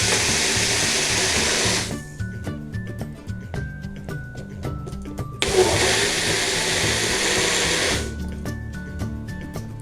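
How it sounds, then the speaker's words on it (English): A blender runs loudly and steadily while blending avocado juice, its motor whine rising into a harsher roar during two stretches, with no talking. "we are going to cover up our blender so that we can blend this juice"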